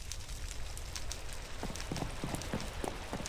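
Steady rain hisses and patters in the Minecraft Sky Factory video game. The drops tap continuously and evenly throughout, with no voices.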